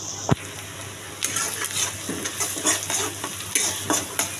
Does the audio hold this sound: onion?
yes